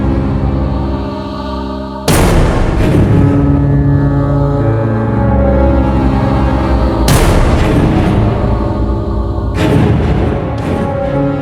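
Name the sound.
gunshots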